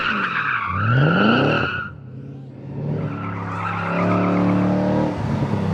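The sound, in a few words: Mustang Motorsport Tarmac Rally GT sliding through tight turns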